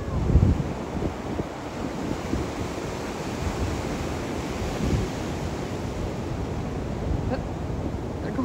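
Ocean surf breaking on a beach where pelicans ride the waves, a steady broadband wash of crashing water mixed with wind rumble against the microphone, fairly loud and continuous throughout.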